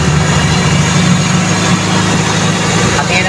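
A Toyota 4AF carbureted engine idles close by with a steady low rumble, its RPM rising slightly as the throttle positioner screw is turned.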